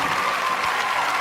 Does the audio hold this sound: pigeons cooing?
no